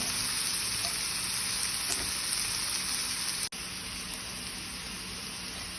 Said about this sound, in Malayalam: ഇളക്കി കൊടുക്കാം സവോള ഒന്ന് വാടി വരട്ടെ